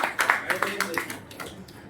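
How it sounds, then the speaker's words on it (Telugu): Scattered hand clapping from a small audience at a religious katha gathering, a few quick irregular claps in the first second that thin out and fade, with a voice talking over them. "అందరూ ఒక్కసారి చేసిన వాళ్ళందరికీ కూడా గట్టిగా చప్పట్లు కొట్టండి"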